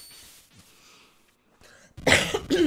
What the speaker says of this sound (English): I'm killing people with headphones by coughing